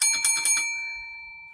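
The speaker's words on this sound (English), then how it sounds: "Let's ring that bell." A bell, likely a bicycle-style bell, rings during a Shut the Box game: three quick bright dings in a row, then a long clear ringing decay fading out, loud and close with no talking.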